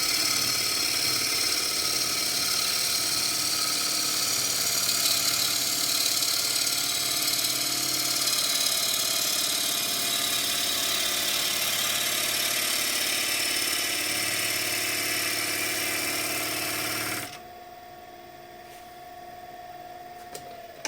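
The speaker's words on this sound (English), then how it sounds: "I'm going to show you nice push cut. So I'm riding the bevel." A wood lathe spins elm while a gouge makes a push cut riding the bevel. The machine holds a loud, steady whine for most of the time, then drops to a much quieter hum near the end.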